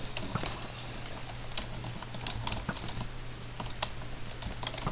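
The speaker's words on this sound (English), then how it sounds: "why are you typing now?" Rapid clicking of a computer keyboard during typing, an irregular patter of keystrokes over a steady low electrical hum, with no talk.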